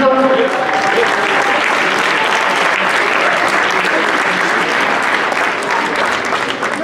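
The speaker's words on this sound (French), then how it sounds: "je veux entendre applaudir très fort là, pour les deux boxeurs qui se sont donnés sur 4 plus de 2 minutes" A boxing crowd applauds two fighters after a final bout, dense loud clapping and cheering held steady throughout at close range.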